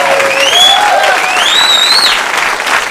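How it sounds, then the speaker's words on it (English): Applause from a live comedy show audience rolls on steadily, with whistles rising and sliding above the clapping, loud and full. "Please, a nice round of applause, Mr. Orrin Starr."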